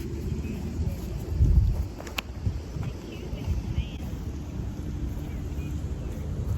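Wind gusting across an open disc golf course, a rough low rumble of buffeting against the microphone that rises briefly, then settles into a steady outdoor roar.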